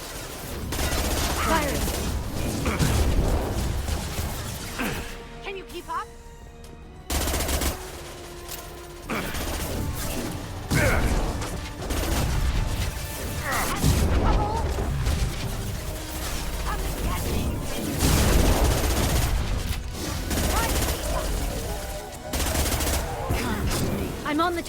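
Sustained automatic gunfire in a Mass Effect 2 Legendary Edition combat scene, with loud rapid volleys, mechanical weapon noises and explosions running almost without a break, plus brief voices calling out during the fight.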